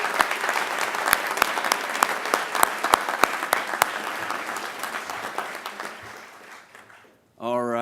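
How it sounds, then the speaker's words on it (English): Graduation commencement crowd applauding the first graduating class of a finance program, a dense sustained clapping with some sharp individual claps, tapering off before a voice starts speaking at the end. "join me in one more round of applause for this first graduating class"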